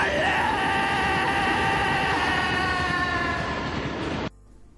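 An approaching train in the Korean film Peppermint Candy rumbles loud and close along the tracks with a sustained whistle-like tone over it, building for about four seconds before cutting off abruptly.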